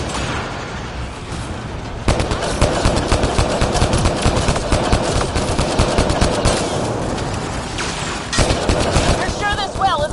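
Video game turret firing in long rapid automatic bursts, loud and close, a dense rattling barrage that runs almost continuously with booming impacts mixed in.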